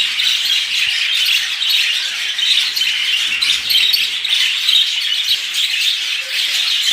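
Cockatiels kept in pairs at a fancy-bird seller squawk and chirp continuously, a dense, shrill chorus of overlapping calls filling the whole stretch without pause.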